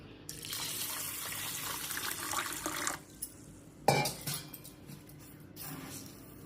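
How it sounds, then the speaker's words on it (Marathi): Tap water pours steadily for a few seconds onto a bowl of twice-washed rice set to soak, followed by a sharp clink of a vessel and softer trickling and splashing, with no talk. "तर त्याच्यात पाणी घालते."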